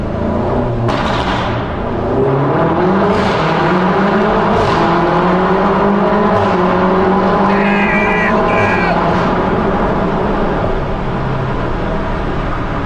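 A BMW M5 engine revs and accelerates from inside the car, a loud rising and falling drone through repeated throttle pulls, with people talking over it.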